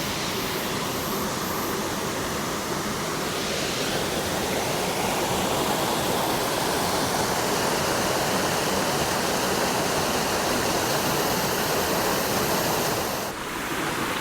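A twin waterfall in a mountain valley gorge roars as a dense, steady rush of falling water, loud and unbroken, with no voices.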